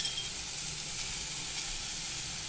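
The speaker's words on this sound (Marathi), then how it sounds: "मीडियम गॅसवरती आपल्याला भाजत राहायचे चणे।" Chickpeas roasting in a pan over a medium gas flame while making Mumbai street-style chana chaat give off a steady, soft sizzling hiss that continues evenly throughout, with no talking.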